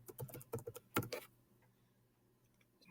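Clicks of a computer keyboard as text is typed into a Word Art box: a quick close run of keystrokes for about a second, then near silence.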